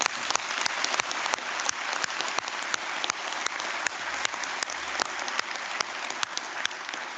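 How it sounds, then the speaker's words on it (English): A graduation audience at a 2022 City Colleges ceremony applauds in a dense, steady round of clapping that fills the whole stretch, with many individual sharp claps standing out from the wash. "Again, one final round of applause for everybody."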